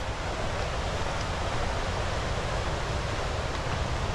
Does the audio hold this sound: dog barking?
no